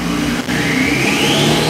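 A Porsche 911 Carrera Cabriolet (992) with a 3-liter turbo flat-six revs up loud and close, its engine note climbing steadily in pitch over a continuous, full-bodied roar.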